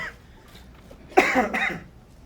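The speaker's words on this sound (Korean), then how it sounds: "이게 기침이 쿨타임이 있어가지고 단어를 몇 문장 이상 말을 하면 한 번씩 해야 돼요." A single harsh cough bursts out after a stretch of near quiet, followed by a shorter second hack; close and fairly loud.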